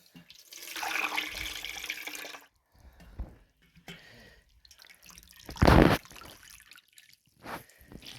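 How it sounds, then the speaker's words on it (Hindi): Cold water runs and splashes as taro (arbi) pieces are rinsed for a Kashmiri dish, with steady pouring, then softer sloshing and one loud splash near the end. No one speaks. "इसमें हम डालेंगे थोड़ा सा ठंडा पानी और धो लेंगे 2-3 बार अच्छे से।"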